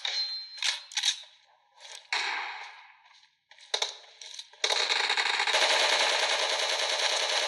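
Rapid automatic gunfire in PUBG Mobile, loud and close: a few scattered shot bursts early on, then a sustained, dense stream of fire filling the last few seconds, with no talk.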